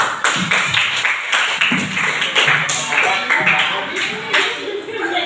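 Classmates in a classroom clapping for their peers after a group discussion task, a dense run of close, sharp handclaps lasting several seconds at steady loudness.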